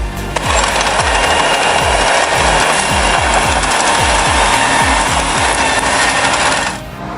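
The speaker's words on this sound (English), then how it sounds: "begins with the sound of chainsaws echoing in the forest as workers diligently cut large logs" A loud chainsaw runs continuously at high revs in a forest, rough and buzzing, with rapid repeated pulses cutting large logs throughout before cutting off near the end.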